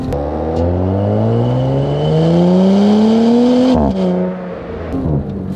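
A loud engine exhaust of a 2018 Audi S5 Sportback drones steadily while the car drives, its pitch rising gradually as it accelerates, then dropping sharply near the end as the revs fall.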